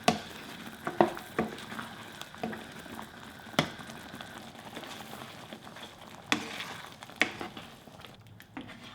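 Rosé tteokbokki with cheese in simmering broth being stirred, soft wet squishing and sloshing with a few sharper utensil scrapes and taps over a low bubbling background, close and fairly quiet.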